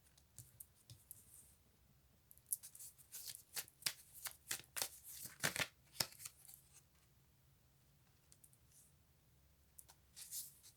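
Tarot cards shuffled in bursts of crisp riffling and flicking, a dense run of quick close slaps through the middle and a few more near the end, with quiet pauses between.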